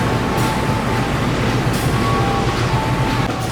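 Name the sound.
locomotive CC 018912 of the Gajah Wong train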